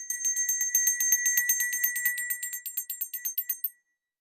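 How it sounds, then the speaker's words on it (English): A small bell rings rapidly and continuously, each bright metallic strike tight against the next, then stops abruptly after nearly four seconds and leaves silence. "why I have a bell in the beginning of my video, it's because bells break up stagnant energy"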